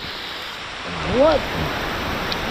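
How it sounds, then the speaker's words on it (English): Heavy rain pours down during a storm on a fishing trip, a steady close hiss of downpour with one brief word spoken over it partway through. "And I hear what sounds like more rain."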